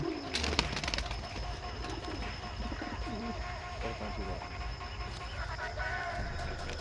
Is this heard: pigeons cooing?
yes